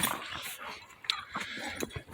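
An Airedale terrier whimpers and yips softly in short, scattered bursts over about two seconds, close and fairly quiet, outdoors in the first snow of the season.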